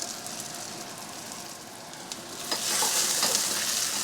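Four cloves of homegrown garlic and four medium red chilies fry in a hot pot, a steady sizzle that flares louder partway through as they are stirred, with no voices.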